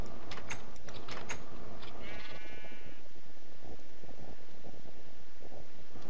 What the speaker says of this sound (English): This is the dumbest sheep.